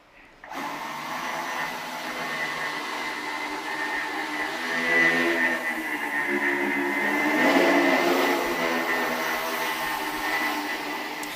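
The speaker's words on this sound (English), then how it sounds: "When you put them together, they behave like one high-performance quadricopter." A steady, loud whirring drone of propellers from a quadricopter formed by two linked two-propeller flying machines, sustained close by with slight swells in pitch and no talk.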